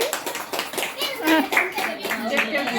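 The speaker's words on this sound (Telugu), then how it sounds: "తనయాకి అందరూ క్లాప్స్ కొట్టండి ఒకసారి" A small group claps for a young girl, the scattered handclaps running steadily throughout at moderate loudness, with children's and adults' voices mixed in over the applause.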